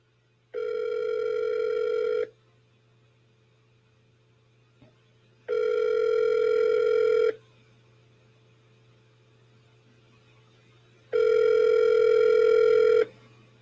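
A telephone ringback tone on an outgoing call, three long, steady, loud buzzing rings, each about two seconds, separated by pauses of roughly three seconds, over a faint constant hum, with no talk.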